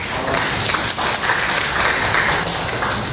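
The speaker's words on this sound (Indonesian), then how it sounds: "Ini kita aplaus lagi." Applause from an audience at a provincial government coordination meeting on inflation control, a steady, dense clapping that fills the room for a few seconds without pause.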